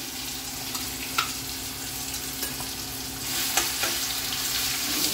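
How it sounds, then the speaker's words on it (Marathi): Ginger garlic paste hits hot oil tempered with whole spices like cinnamon and cloves for a chicken gravy, giving a steady soft sizzle broken by a few sharp clicks of stirring. "आलं लसूण पेस्ट टाकायची,"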